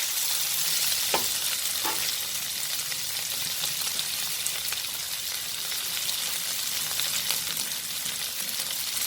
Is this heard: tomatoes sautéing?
yes